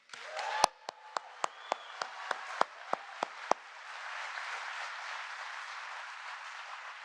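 An audience at a presidential visit to the IBM site in Poughkeepsie applauds. About a dozen separate sharp claps come first, then a softer, steady wash of applause that carries on to the end.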